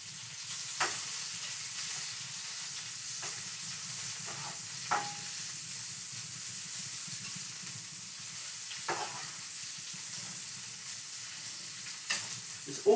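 Escovitch snapper cooking in a pan, with a steady soft sizzle and hiss of frying close by and occasional light clinks and scrapes from stirring.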